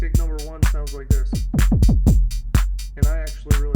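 Kick drum number 1 on an Arturia Drumbrute drum machine, about eight booming hits in a quick pattern, some with pitch-dropping tails, loud and up close without speech.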